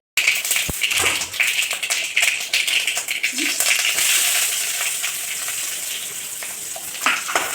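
Steady hot-oil sizzle as mustard seeds pop, with scattered sharp pops and crackles, plus a few metallic taps and scrapes close by.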